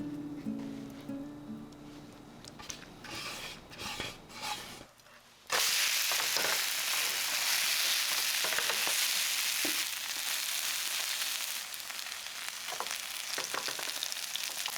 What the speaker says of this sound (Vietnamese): chiên từng con bằng cách cho từng con cá nhúng bột và mình cho vào chảo ngập dầu